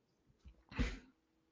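A single short sneeze, faint and quick, preceded by a small intake of breath, in an otherwise quiet room.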